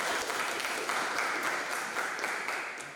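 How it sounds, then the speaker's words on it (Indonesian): Audience applause in a university lecture session, a steady wash of many hands clapping, dense and continuous for the whole stretch without pauses. "Oke, beri aplaus untuk kalian semua."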